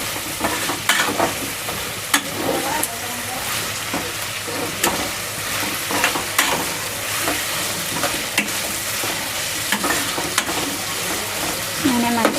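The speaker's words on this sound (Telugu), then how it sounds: "ఫ్లేమ్లోనే ఫ్రై చేస్తున్నాను అనమాట." Vegetables for veg biryani fry and sizzle in a pan over a flame, a steady close hiss broken by scraping stirs, with a voice heard faintly in the background.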